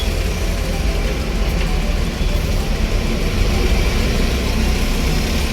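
Crowded traffic at the Talegaon toll plaza on a highway, a dense continuous drone of idling and slowly moving engines with a heavy low rumble, steady and loud with no talk.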